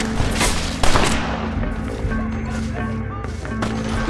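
Sustained gunfire in a Red Dead Redemption shootout with a sheriff, a dense volley of shots over a rumbling music bed, with a louder crack near the start and faint talk underneath.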